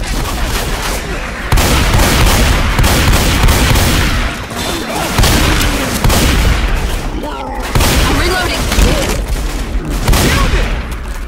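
Sustained barrage of explosions and heavy gunfire in Left 4 Dead 2, loud and dense, with booming bursts and a pipe bomb blast among rapid shots, in several waves across the span with brief lulls.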